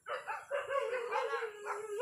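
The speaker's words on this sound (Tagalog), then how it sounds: "Eh, may aso." A dog makes drawn-out, wavering howling barks outdoors, several sustained cries in close succession, fairly loud and near, with no talking over them.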